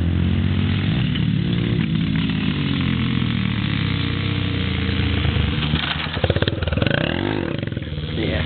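A dirt bike runs in fourth gear, its engine droning loud and steady throughout, with a revving swell and clatter near the end as it passes close.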